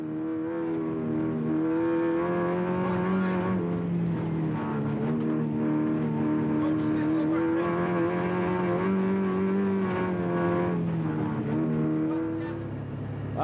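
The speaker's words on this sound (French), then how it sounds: "on se retrouve à bord de la voiture de Sylvain Bazinet." On board Sylvain Bazinet's rally car during the 2006 Rallye Falardeau in Québec, the engine drones loudly and steadily, its pitch rising and falling as the car accelerates and shifts.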